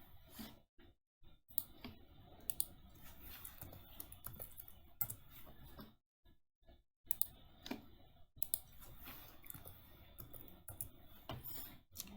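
Quiet mouse clicks in Revit software while editing a roof, single and double clicks scattered irregularly with short pauses between, close and dry with no voice.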